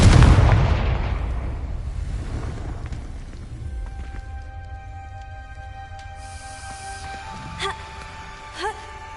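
Confringo fire spell in Hogwarts Legacy bursts with one loud, booming explosion at the start, its roar decaying over several seconds into a low rumble, followed by faint ringing tones and two small later pops.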